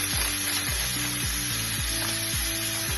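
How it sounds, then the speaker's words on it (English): Chopped spinach hits the hot pot where ground beef was just sautéed and sizzles in a steady, bright hiss that fills the whole stretch. A low pulsing hum runs underneath. "in the same pot that I sauteed my ground beef, I'm just gonna add my chopped spinach"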